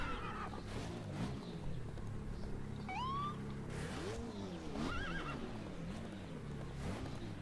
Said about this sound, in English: Like I said, there are horses.